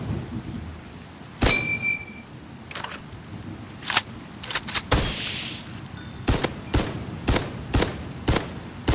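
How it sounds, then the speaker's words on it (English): Minecraft thunderstorm: steady rain hiss throughout with sharp thunder cracks and several crisp, clicky impacts spread across the clip, no talking. "Yeah, I don't care about the thunderstorm."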